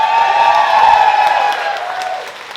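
A comedy club audience at a stand-up show applauds in a loud, dense wash of clapping and cheering that fades toward the end.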